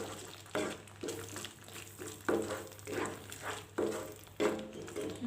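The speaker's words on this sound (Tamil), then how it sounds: "இது நல்லா எண்ணெயிலே வதங்கி வரட்டும்." Masala sizzles in hot oil for a mushroom gravy, a steady frying crackle with regular stirring scrapes about once a second, close and moderately loud with no talking.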